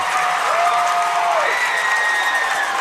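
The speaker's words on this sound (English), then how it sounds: "As West Jefferson faithful have something to cheer for." West Jefferson fans at a softball state championship cheer and applaud after a triple, a steady, dense roar of clapping and crowd noise with whistles rising over it.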